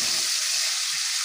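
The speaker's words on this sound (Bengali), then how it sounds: "চিংড়ি মাছগুলো কিন্তু একেবারে আমার ভাজা হয়ে গেছে" Prawns fry in hot oil in a pan, giving a steady, close hiss and crackle throughout with no talk over it.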